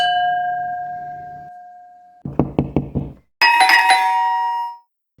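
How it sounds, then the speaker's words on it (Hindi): A doorbell rings, first trailing off from a chime, then a quick series of knocks on a door, followed by a bright ding-dong chime, close and clear without talk. "you hear the sound of doorbell"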